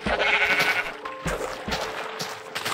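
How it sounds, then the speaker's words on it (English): Minecraft sheep bleating in a game, several nasal bleats in quick succession, fairly loud and close with short gaps between calls. "And those sheep don't like me either."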